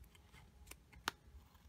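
Fine tip scissors make a single quick, crisp snip through cardstock and graph paper, faint and alone after a softer earlier cut, in a quiet room.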